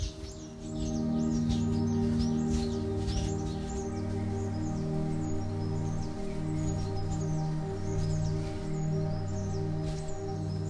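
Birdsong at dawn in a Konkan village: several birds chirp and whistle in repeated short phrases at moderate distance, over a steady low droning hum throughout.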